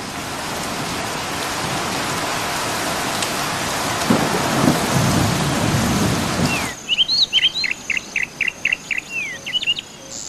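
Heavy rain with thunder hammers down in a loud, continuous roar that swells with low rumbles, then abruptly cuts out, leaving quieter background with a series of short, repeated chirps.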